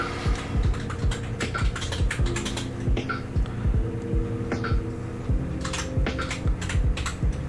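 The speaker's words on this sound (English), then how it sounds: "There's Snorts typing like a 7-year-old behind me." Someone types fast on a computer keyboard nearby, giving rapid uneven clacks in bursts over a steady low room hum.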